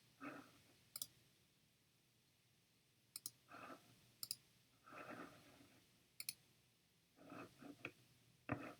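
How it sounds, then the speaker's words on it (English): Sharp computer mouse clicks, single and in quick pairs, scattered irregularly over a quiet room with faint background hiss and no talking. "I'm clicking around."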